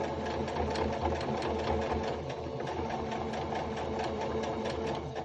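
A serger sewing machine stitches a cloth face mask with a continuous rapid mechanical chatter that stays loud and steady throughout, with no talking.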